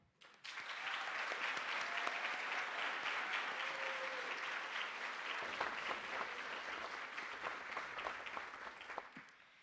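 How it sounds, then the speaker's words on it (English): Steady audience applause fills a nursing pinning ceremony hall, dense sustained clapping starting abruptly and continuing loud for several seconds before thinning slightly near the end. "join me in giving them a well-deserved round of applause as well"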